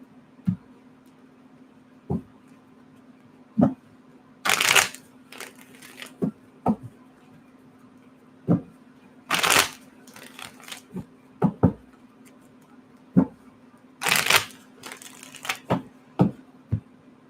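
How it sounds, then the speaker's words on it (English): A tarot deck is shuffled by hand, giving crisp riffling bursts between sharp single taps and snaps, irregular and close, over a faint steady hum, with no speech. "One more shuffle."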